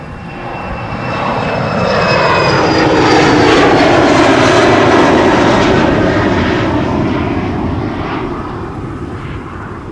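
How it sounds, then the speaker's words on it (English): An Eastern Airways Embraer 190 regional airliner takes off from the Polderbaan runway at Amsterdam Schiphol, its jet engines swelling to a loud, broad roar that peaks mid-pass and slowly fades, with no voices present. "Over here we have KLM flight 1079 being flown by an Eastern Airways Britty Hopper, Embraer 190, going to Bristol."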